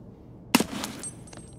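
A single sharp gunshot in Escape from Tarkov cracks out close and loud after a quiet moment, followed by a brief fading tail and faint game noise.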